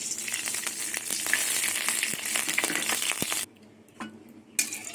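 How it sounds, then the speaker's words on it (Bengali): Mustard oil sizzles loudly in a hot wok, a dense crackling hiss that cuts off abruptly partway through, followed by quiet gaps and a couple of light metallic clinks. "সর্ষের তেল দিয়ে দেবো"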